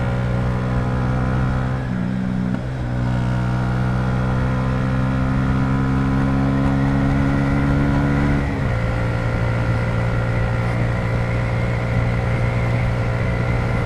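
A manual motorcycle engine drones steadily while climbing uphill, its pitch dropping under engine braking and then shifting as gears change and revs are matched, loud and close throughout.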